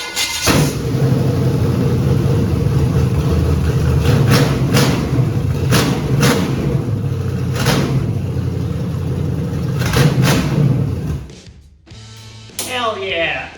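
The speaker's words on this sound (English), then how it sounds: "we're ready to start it up on the go-kart chassis for the first time" A V8 engine on a go-kart chassis starts and runs loud and close with a deep, throbbing idle marked by several sharp revs, then cuts off abruptly before people begin talking.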